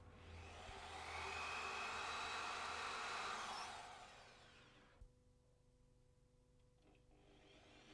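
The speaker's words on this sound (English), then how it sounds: "Drill the frame as appropriate, that is, pilot holes and the hole for the locking screw section." A power drill bores pilot holes into a window frame, a steady whirring drone for about four seconds that winds down, followed by a faint click and quiet handling noise.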